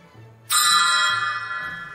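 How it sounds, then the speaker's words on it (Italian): A cymbal struck once gives a bright metallic crash that rings out long and slowly fades, close and loud, alone without speech. "E infine abbiamo il piatto,"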